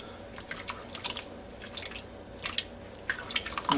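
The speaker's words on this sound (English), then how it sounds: "now let me get this all stirred up in here" Hungarian goulash being stirred in a Ninja Foodi pot gives close, wet, irregular clicks and squelches, with scattered sharper taps against the pot, quiet and without talk.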